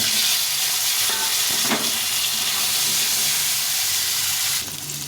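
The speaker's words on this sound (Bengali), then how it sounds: "এই আলুগুলো একটু ভাজা হয়ে ভাজা ভাজা হয়ে যাচ্ছে" Halved new potatoes frying in oil with dried red chillies and bay leaves, a loud close sizzle with a few stirring scrapes, steady throughout and no talking.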